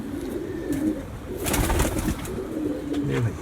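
Pigeons on a rooftop loft give low rolling coos in overlapping phrases, close and continuous, with a brief burst of wing flutter or handling noise near the middle.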